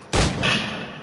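A single loud, close gunshot from an Xbox shooter game, a sharp blast with a short rumbling tail that fades over about a second.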